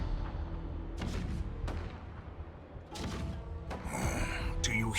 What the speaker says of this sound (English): The rumble of the cannons.